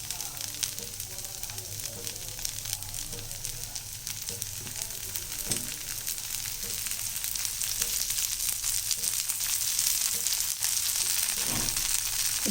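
A dosa sizzles steadily on a hot griddle as oil is poured around its edges, a continuous close frying hiss with occasional soft crackles and scrapes.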